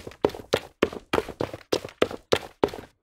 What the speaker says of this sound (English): we'll hear our footsteps